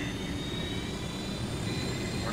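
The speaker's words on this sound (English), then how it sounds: "Four helicopters." Several helicopters fly overhead in the video game Ghost Recon Wildlands, a steady, dense rotor and engine roar holding at an even level throughout without any voices.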